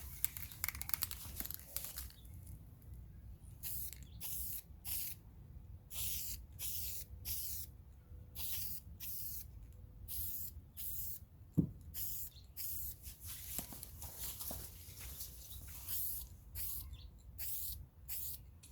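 Aerosol can of Brownell's Aluma-Hyde II paint sprayed onto a rifle in repeated short bursts, each a few seconds long with brief gaps between them, close by, alongside a few small clicks and handling sounds.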